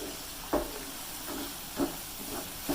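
Moong dal frying in ghee in a pan, a faint steady hiss with three soft stirring swooshes spaced evenly about a second apart, quiet and close, no voices.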